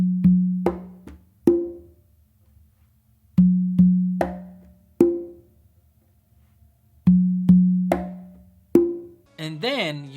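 A conga tumbao played on the tumba: repeating patterns of open tones, sharp slaps and soft bass taps in clear rhythmic groups with short pauses, close and alone.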